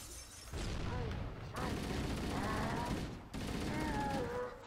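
Gunfire and a grenade throw in the Halo video game, sustained rattling bursts of game weapons fire broken by short pauses, dense and busy throughout.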